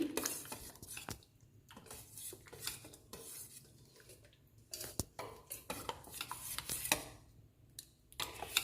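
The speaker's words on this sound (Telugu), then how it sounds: "తాలింపు పప్పు కలుపుకుందాము" A pot of green chilli and tomato dal is stirred after tempering is added, a spoon scraping and clinking against the metal in an irregular, close rhythm with soft swishing between strikes.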